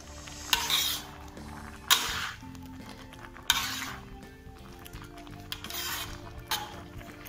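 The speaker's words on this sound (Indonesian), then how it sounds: "Ini lagi mendidih nih kawan-kawan, kita aduk-aduk dulu." A rice mixture boiling in a pot for ginaru pote while a spoon stirs it, with repeated scraping strokes against the pot every second or two over a steady bubbling undertone.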